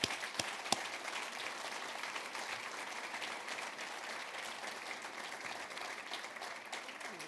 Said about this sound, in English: join me in a round of applause for the Protocol team